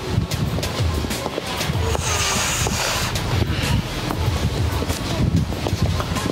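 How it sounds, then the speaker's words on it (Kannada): Cold wind gusting steadily and loudly across the microphone outdoors near the Fushimi Inari shrine in Japan, a continuous rushing roar that fills the clip alone. "ಗಾಳಿ ಹೊಡಿತೈತೆ ತಣ್ಣಗೆ."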